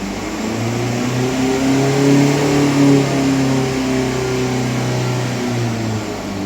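Steady engine hum from a 2020 Skoda Passat B7 running at idle with a suspected EGR or NOx fault, a close, continuous low drone with stable harmonic tones and no revving spikes.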